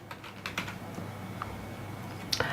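A Wi-Fi password is typed on a computer keyboard, a run of light, irregular key clicks close by and fairly quiet, with a couple of sharper taps near the end and no talk.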